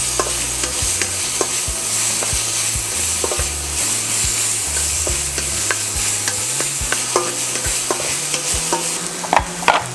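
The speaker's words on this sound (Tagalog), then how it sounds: "Ngayon, magsosote na po tayo." Pounded garlic sautéing in oil for Filipino chicken in coconut milk, a continuous loud sizzle with repeated scraping and stirring clicks of a utensil against the pan, no voices.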